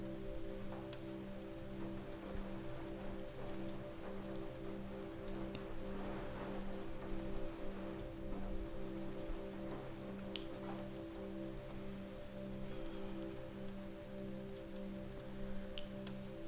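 Heavy rain falls outside, a soft, constant hiss of drops heard faintly from indoors under a steady low droning hum, with no talking.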